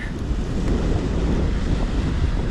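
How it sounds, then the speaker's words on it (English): Wind blows across a Lake Superior-style sandy beach on Minnesota Point in Duluth, buffeting the microphone with a loud, continuous low rumble and hiss, no voices. "I'm sure the wind's gonna make a little noise here"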